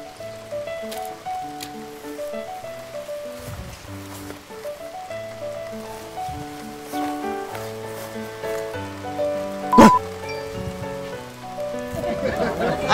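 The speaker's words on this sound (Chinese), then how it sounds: "飞哥，下雨了，我去给你拿把伞啊" Steady rain falls outdoors, a dense hiss and patter of drops that continues throughout, partly mixed with background music and a sharp burst near the end.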